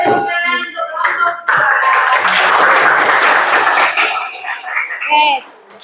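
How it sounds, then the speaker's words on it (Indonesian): A classroom audience claps for a student group after its presentation: a dense burst of clapping swells in the middle, with voices talking before and after it. "kasih tepuk tangan untuk kelompok"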